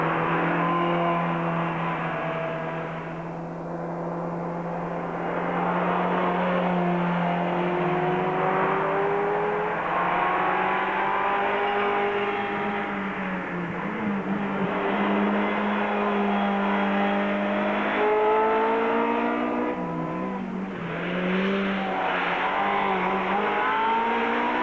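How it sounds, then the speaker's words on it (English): A Ferrari 355 sports car engine sounds from inside on a road test, revving loud and steady with rising and falling pitch through gear changes, with brief dips between shifts. "AJ and I this time round are going to road test the Ferrari 355."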